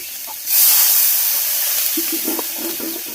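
Water splashes into a hot cooking pan in a village kitchen, giving a sudden loud hiss that settles into steady sizzling steam, with a few faint clinks and voices underneath.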